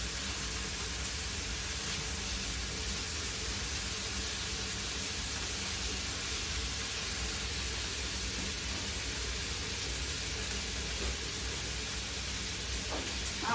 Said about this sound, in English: Sounds like our kettle has boiled.